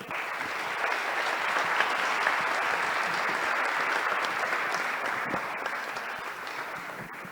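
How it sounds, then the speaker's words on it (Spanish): Audience applause at a formal event of Jalisco's state legislature on electoral jurisprudence: steady, full clapping from a large crowd for over seven seconds, tapering slightly toward the end, with no talk over it. "Un fuerte aplauso."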